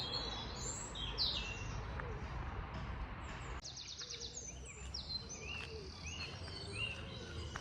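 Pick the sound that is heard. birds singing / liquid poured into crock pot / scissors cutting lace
birds singing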